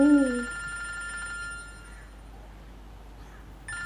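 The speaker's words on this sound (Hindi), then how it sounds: "अरे फोन बज रहा है।" A telephone rings with a repeating electronic trill, fairly quiet and steady, after a short tonal sound at the very start.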